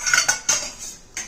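Metal cutlery clinks as spoons are unloaded from a Bosch dishwasher, a handful of short, bright, close clinks in quick irregular succession.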